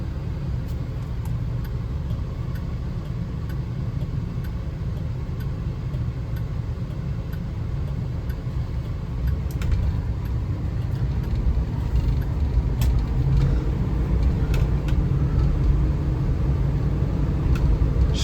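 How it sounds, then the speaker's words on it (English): A 1972 Cadillac Coupe deVille with a Turbo 400 transmission cruises down the road, its steady low rumble and road noise running unbroken from the cabin, with faint ticks over the drone. "we're going to take this 1972 Cadillac Coupe deVille out for a drive"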